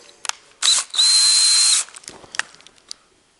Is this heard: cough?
no